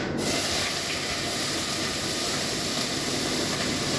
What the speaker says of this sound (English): So the first one, I'm going to saute the onions.